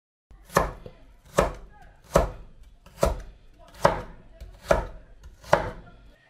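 Knife chopping carrots, potatoes and onion into small pieces on a cutting board for a home-cooked chicken curry, seven sharp evenly spaced thuds close up and alone, with no talk.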